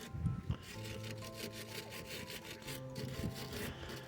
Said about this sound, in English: keep spraying it, keep brushing it, and just agitate the rust or the mud that could be in there.